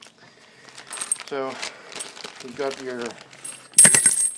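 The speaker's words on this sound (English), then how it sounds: "that noise you just heard was me spilling all the spacers" Loose metal spacers from a Ford Ranger trailer hitch hardware bag spill and clatter in a short bright rattling burst near the end, after someone talks over faint handling noises.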